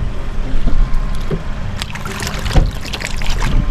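Water sloshes and splashes close by in a canal over a steady rushing flow, with a few sharper splashes standing out.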